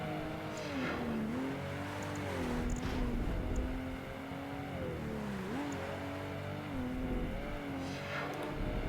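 A Ferrari race car in Project Gotham Racing 2 drones steadily through a lap, its engine pitch dipping and climbing with gear changes and corners, under a constant wash of road noise and no voices.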